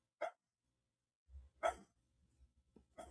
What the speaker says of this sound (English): It's just constant. It's just bark, bark, bark, bark, bark.